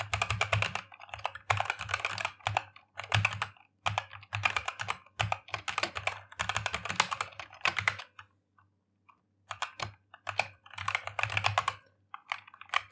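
Rapid computer keyboard typing in bursts of clicking keystrokes, close and clear, with brief pauses between runs and no voices.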